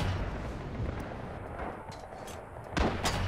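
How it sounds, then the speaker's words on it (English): Mortar explosions rumble in a military video game battle, a steady low boom-laden din of distant gunfire and blasts, with a sharper, louder impact near the end. "The mortars, 10 meters out."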